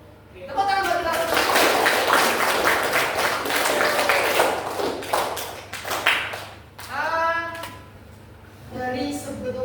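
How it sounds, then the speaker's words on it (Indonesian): Children clap together in a classroom game, a dense burst of hand claps lasting several seconds, then fading as a voice speaks and more scattered clapping returns. "Tepuk tangan buat kita."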